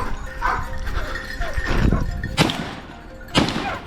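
Hunting dogs bark and yip while flushing a wild boar in a busy outdoor scene, with a few sharp, loud bursts standing out over constant background noise and rustling.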